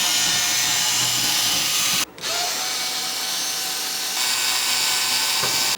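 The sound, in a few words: removing bottom screws from E-MU EMAX HD sampler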